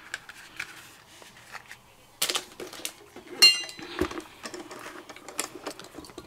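A metal marquee plate from a die-cutting machine gets handled and flipped over, producing a few close clinks and clatters among light tapping and shuffling on a crafting table.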